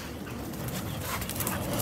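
Bully breed puppies whine and yelp while playing, giving continuous high-pitched squeals and whimpers at moderate loudness over a steady background, with no speech.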